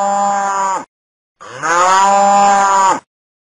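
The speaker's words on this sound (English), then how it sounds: "Cow." A cow moos twice, long loud harmonic calls close to the listener, the first about a second long and the second longer and rising, separated by a brief silence.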